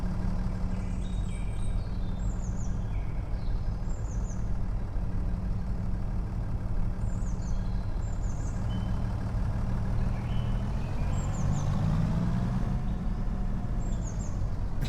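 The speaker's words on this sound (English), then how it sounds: "So let's try and tow it up and see what happens." A truck's engine runs steadily while towing a car up, its low rumble continuous throughout, with intermittent reversing beeps and high chirps above it and no talk.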